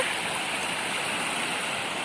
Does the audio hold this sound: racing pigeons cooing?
no